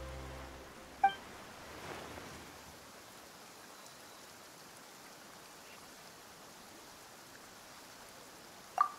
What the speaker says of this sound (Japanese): なんで急に雨が。